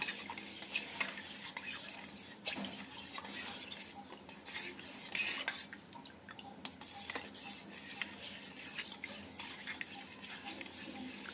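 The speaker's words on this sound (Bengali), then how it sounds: "আগার আগার পাউডারটা দিয়ে আমি দুধটাকে ভালোভাবে মিক্স করে নেব।" Milk with agar agar powder being stirred in a bowl, a steady run of close spoon-on-bowl scraping and clinking strokes throughout with no voices.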